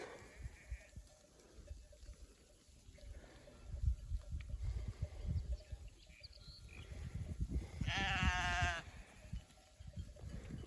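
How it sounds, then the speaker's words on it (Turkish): A sheep bleats once, clearly and fairly close, amid soft outdoor rustling and low background noise, with sheep grazing in tall, flowering grass. "Koyunlar otun içinde"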